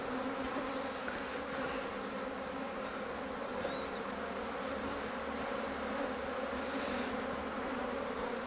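Honey bees buzz continuously during a vertical Flow Hive split, a dense close swarm hum with no voices.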